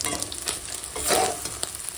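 An egg with green chilli and onion fries in a pan, giving a close, continuous sizzle with a few stirring and scraping sounds, and nobody speaks.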